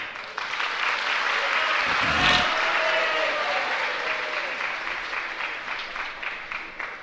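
Audience applause breaking out during a Jain religious sermon on Adinath Jayanti, a steady crowd clapping that swells and holds for several seconds before easing off.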